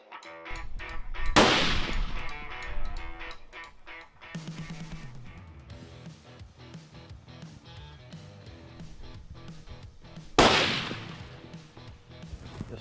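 Rifle shots fired at a target 200 yards out on a South Texas whitetail hunt, two loud sharp cracks several seconds apart, each ringing out over a steady bed of background music.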